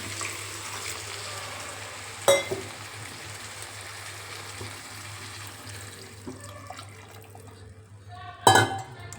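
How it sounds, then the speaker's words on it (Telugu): Water pours into a pan of curry with a steady hiss, punctuated by two sharp metallic clinks, before the pouring quiets and stops. "కొన్ని వాటర్ని కూడా వేసేసుకున్నాం"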